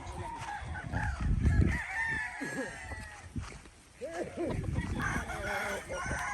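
Several mountain-raised roosters crowing and clucking at a moderate distance on a large gamefarm, calls overlapping, with a faint murmur of outdoor background noise.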